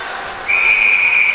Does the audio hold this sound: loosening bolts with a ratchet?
no